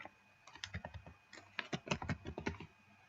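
Someone types on a computer keyboard in a quick burst of close, soft clicking keystrokes, pausing briefly and then resuming faster, with no voice over it.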